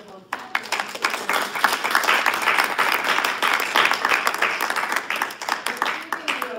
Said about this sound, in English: I would like for all of us to give a big applause to our formidable candidates